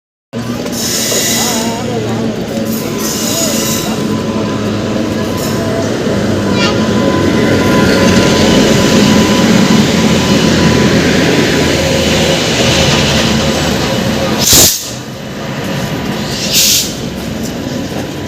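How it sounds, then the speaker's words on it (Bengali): The Dhauli Express rolls alongside a station platform with a loud, sustained rumble of carriages and wheels that holds steady for many seconds, broken near the end by two short bursts of sharp noise. "আর 3 নম্বর প্ল্যাটফর্মে আসতে হচ্ছে ধৌলি এক্সপ্রেস"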